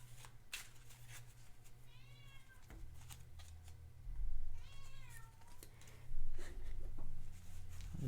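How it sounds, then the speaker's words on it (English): A cat meows twice nearby, each call a drawn-out, wavering cry. Soft handling noises and a low room hum sit between the two calls. "Ridiculous cat."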